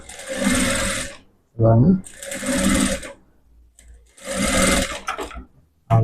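A sewing machine stitches a shoulderless blouse in three loud, steady running bursts, with a voice speaking in the pauses between them.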